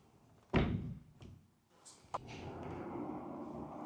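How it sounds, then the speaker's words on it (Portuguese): An interior door in a modern house shuts with a solid, close thunk, followed by a few lighter knocks and a low room hum. "eu consigo sempre fechar a porta de maneira a individualizar esta divisão"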